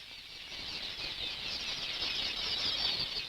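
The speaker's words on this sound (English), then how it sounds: "The quelea is a small bird which arrives suddenly in large flocks and builds thousands of nests." A large flock of small quelea birds in African wildlife country makes a steady, dense whir of wings, a continuous mid-level rushing flutter with no voices.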